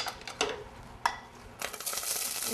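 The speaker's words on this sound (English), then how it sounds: "You hear that sizzling" Chopped onions tossed into hot olive oil in a pan, with a few sharp utensil clinks before a steady, close crackling sizzle takes over.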